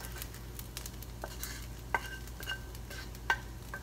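An egg frying in a pan alongside sinangag, Filipino garlic fried rice, gives a faint, steady sizzle with a few sharp utensil clicks and scrapes scattered through it.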